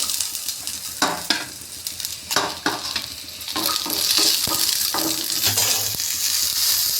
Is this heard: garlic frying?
yes